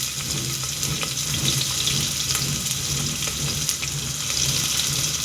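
Onions frying in oil with bay leaf, cinnamon, cloves, cardamom and star anise for a vegetable kurma, a steady close hiss and sizzle running unbroken throughout.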